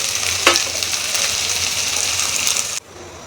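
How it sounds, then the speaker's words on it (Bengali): Cumin seeds hit hot oil for a tempering while cooking bhindi masala, a loud bright sizzle with a sharp burst near the start that cuts off abruptly just before the end. "এই যে জিরার ফোড়নটা দিয়ে দিলাম"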